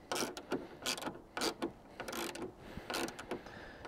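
A 13 mm spanner turning a nut while fitting tailgate storage to an 80 Series LandCruiser, giving sharp metallic ratchet clicks in short irregular bursts, close and fairly quiet, with no talking.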